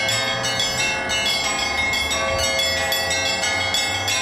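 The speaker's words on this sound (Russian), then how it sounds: "новый звон необычайно красив" New church bells of the cathedral in Minusinsk ring loud and close, overlapping chimes and strikes in a steady, continuous peal.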